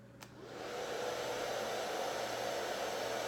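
A blow dryer switches on at medium heat and runs steadily, a loud, close, even rushing whoosh with a low hum beneath it and no talking.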